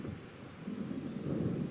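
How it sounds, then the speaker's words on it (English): Low rumbling thunder of an approaching storm in the video game Alan Wake, a continuous deep roll that swells slightly louder toward the end, heard alone with no talk. "It seems there's a storm coming."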